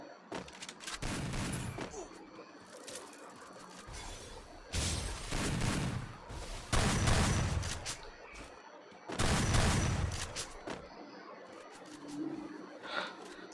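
An M80 rifle fires in the Free Fire video game, four separate bursts of rapid gunfire, each lasting over a second with quiet gaps between, loud and close with no talk.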